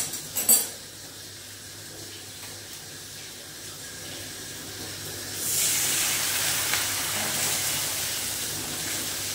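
Hot water poured into a pan of frying spice masala for an egg curry, setting off a loud, steady hissing sizzle that rises about halfway through and carries on to the end, with a brief clink of utensils near the start.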